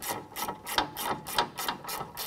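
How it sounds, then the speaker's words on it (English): Rapid clicking ratchet wrench tightening a 17 millimeter bolt during a wheel bearing replacement on a 2007-2013 Mitsubishi Outlander, a steady run of about nine raspy strokes at close range. "This is a 17 millimeter, so we'll go ahead and tighten that down."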